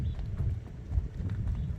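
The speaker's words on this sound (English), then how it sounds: "pretty much any horse you can hook up and they'll go forward" A young Friesian gelding's hooves clip-clop at a steady walking rhythm as it is driven in harness, close and clear, with no talking over the repeated strikes.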